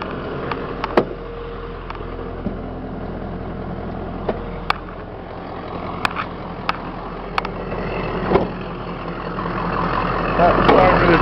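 A Ford F550 stake-body 4x4 diesel truck engine idles with a steady low rumble, punctuated by scattered clicks and knocks, then swells slightly toward the end; a person talks intermittently over it.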